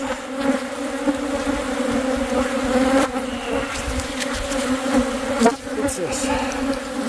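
Angry honeybees buzzing densely around a hostile hive, a steady close swarm drone with individual insects passing near, occasional faint voice and rustle under the hum.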